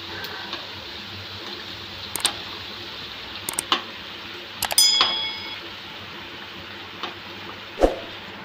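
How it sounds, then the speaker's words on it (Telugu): Ravva appalu, semolina fritters, fry gently in oil on a stove at low heat, a soft steady sizzle under scattered light clicks and one sharper clink. "ఒకవైపు బాగా ఫ్రై అయినాయి. రెండో వైపుకి కూడా తిప్పుకొని కాల్చుకుందాం."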